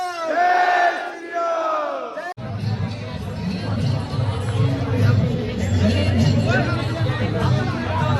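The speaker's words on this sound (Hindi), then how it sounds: "देख सकते हो कितनी भीड़ आई है भाई।" A large crowd at a Bajrang Dal Trishul Diksha gathering in Jaipur opens with a few seconds of voices chanting in unison. A sudden cut then gives way to a dense, continuous roar of crowd noise and babble.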